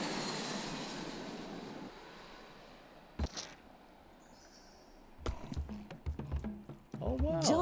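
Airplane engine roar during takeoff in the video game Genital Jousting, a loud steady drone in the first seconds that drops away, followed by bumps and clatter, with a narrator and players talking over it.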